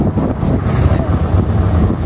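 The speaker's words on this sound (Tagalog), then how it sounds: "Okay lang dahil malakas ang hangin eh." Strong wind buffeting the microphone outdoors, a loud, steady low rumble with gusty fluctuations throughout and no clear voices.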